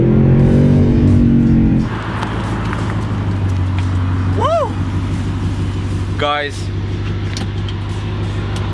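An Audi R8 V8 with a Milltek exhaust roars loudly up close, then settles into a throbbing idle with sharp revving rises, while someone shouts and talks over it.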